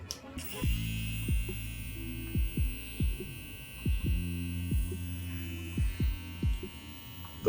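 JRL Lamborghini Diamante hair clipper at its low 6500 RPM setting, a steady close electric buzz and hum broken by repeated rhythmic throbbing pulses as the motor runs alone.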